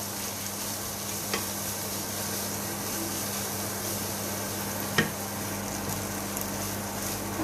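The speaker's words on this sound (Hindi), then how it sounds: "हम इसको अच्छी तरह से पका लेंगे और अच्छी तरह मिक्स करेंगे" Chopped fried potatoes with spices being stirred in a pan: a steady low frying hiss with a couple of sharp spoon clicks against the pan, no voices.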